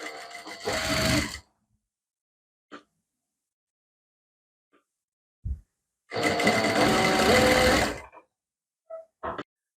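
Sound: sewing machine stitching piping onto a sleeve

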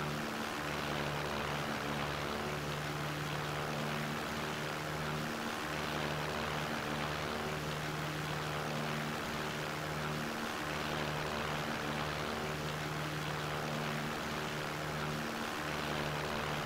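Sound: propeller airplane engine in video game Takeoff

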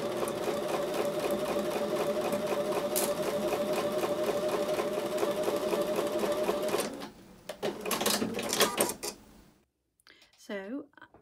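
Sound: sewing machine sewing quilt pieces with a quarter-inch seam

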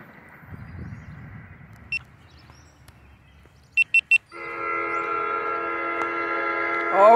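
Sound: NJ Transit train horn show

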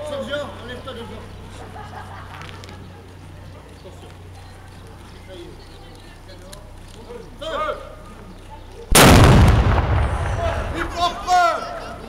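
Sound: reenactment cannon firing, artillery piece

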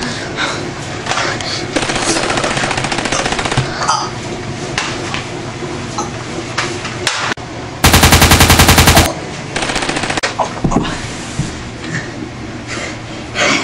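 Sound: gunfire in a video game

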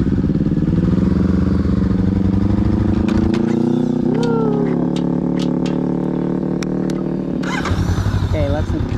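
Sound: motorcycle riding in second gear

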